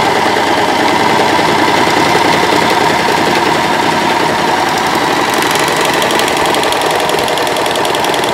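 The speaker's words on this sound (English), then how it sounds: "we're going to do 4 thread overlocking." A Pfaff Admire Air 5000 overlocker runs steadily through 4-thread overlocking, a dense, continuous mechanical whir and rapid rattle at a constant close, loud level, with a slight change in texture near the end.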